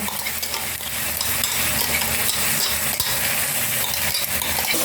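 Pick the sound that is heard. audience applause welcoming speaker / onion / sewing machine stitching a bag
onion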